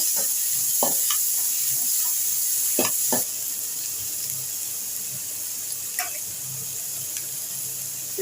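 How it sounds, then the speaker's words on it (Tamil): Onion frying in oil for ragi adai, a steady sizzle running under the whole stretch with a few sharp stirring clinks and scrapes near the start and again toward the end, no one talking. "இது கூட கொஞ்சம் வெங்காயம் போட்டு இதையும் வறுத்துக்கலாம்."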